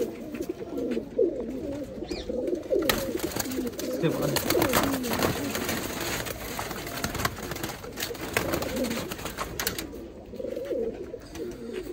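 Many pigeons coo continuously in a low, overlapping chorus, with scattered clicks and rustles close by.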